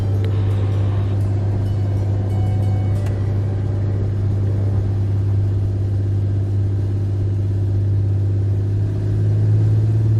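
A small single-engine aircraft departing runway 35 at Avery County, its engine a loud, steady droning hum that holds constant throughout, close and unbroken, with no talk over it.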